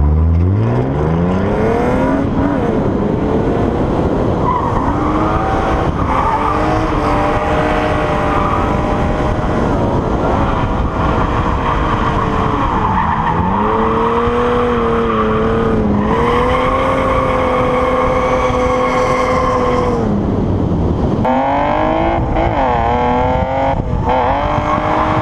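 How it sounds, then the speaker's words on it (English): Drift cars at a pro-am drifting event roar continuously, engines revving up and down in long rising and falling sweeps, loud and close throughout with no pauses. "Drifting just started."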